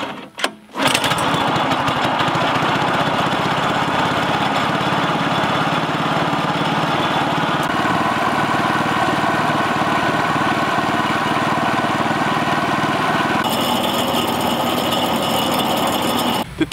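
Thai outboard boat motor, fitted with a replacement pull starter, running steadily after a pull start, loud and close with a constant buzzing drone that shifts slightly in pitch partway through; no talk.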